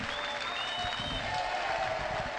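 Spontaneous applause for a band at the 16th traditional Kurajchki carnival, a dense, even wash of many clapping hands heard at a distance, with crowd noise mixed in.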